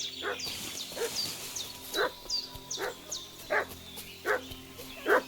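A dog in Kingdom Come Deliverance 2 barks and fusses: about six short barks at a fairly steady pace, moderately faint, set against quiet game ambience with high chirping sounds.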